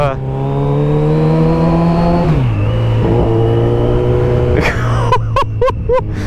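A Kawasaki Z900RS motorcycle engine runs close and loud with a steady droning idle. The pitch dips partway through, then several quick, sharp throttle blips come near the end.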